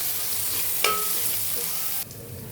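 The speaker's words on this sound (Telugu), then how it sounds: "అల్లం వెల్లుల్లి పేస్ట్ వేసాను, అదైతే వేగుతుంది." Ginger garlic paste frying in a pan with turmeric for chicken curry, giving a steady, close, loud sizzle with a brief stir partway through before the hiss drops off sharply.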